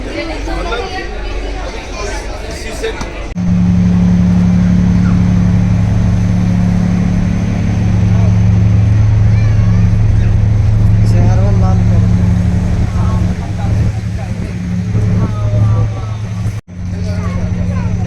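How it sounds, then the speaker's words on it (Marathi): A ferry boat's engine starts up and settles into a steady, loud low drone that runs continuously, with people chatting nearby over it. "स्टार्ट झालं आपली बोट"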